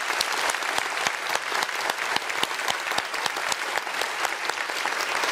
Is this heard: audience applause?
yes